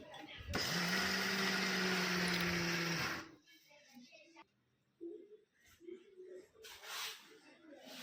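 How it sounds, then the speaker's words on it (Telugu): A mixer grinder powders dried lentils in a home kitchen during festival cooking. It gives a loud, steady whirring roar for about three seconds, then stops abruptly and is followed by quieter handling clatter. "దీన్ని కొంచెం కొంచెంగా ఇలా మిక్సీలో వేసుకుని పొడి చేసుకోవాలి"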